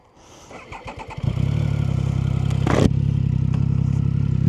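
A Triumph Sprint GT 1050 sport-touring motorcycle cranks with a few quick starter clatters, catches, and settles into a loud, steady idle close by.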